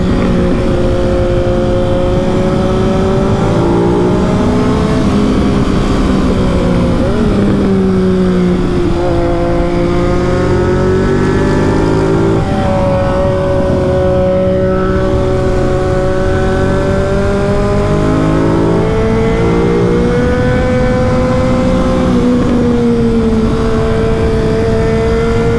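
A Ducati motorcycle engine revs hard and accelerates along a road, loud and close throughout, its pitch climbing and falling through repeated gear pulls.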